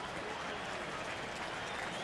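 Stadium crowd at a Dallas Cowboys football game against the Arizona Cardinals, a dense, steady wash of cheering and applause from a large crowd, with no clear peaks.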